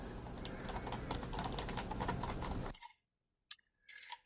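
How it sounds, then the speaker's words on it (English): Typing on a Cherry KC 1000 keyboard: a close, rapid, continuous clatter of keystrokes for nearly three seconds, then silence and a few isolated key presses alone. "Let's have a typing test."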